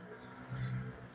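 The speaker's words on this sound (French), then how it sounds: "Je tousse." A single sharp cough bursts out near the end, following a stretch of quiet, low background hum.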